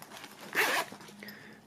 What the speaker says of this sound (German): Jede Menge Reißverschlüsse.